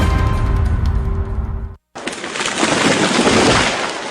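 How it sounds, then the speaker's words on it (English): Sound effect of a tree falling: a dense, rumbling roar, a brief moment of silence, then a loud, sustained broadband crash of rushing, crackling noise. "That was the sound of a tree falling."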